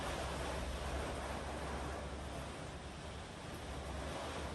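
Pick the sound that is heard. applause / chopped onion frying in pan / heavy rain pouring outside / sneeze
heavy rain pouring outside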